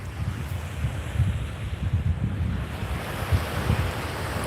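Ocean waves run up the sand at low tide on a Long Beach peninsula during surf fishing, a steady low wash and rumble with gusting wind noise buffeting the microphone throughout.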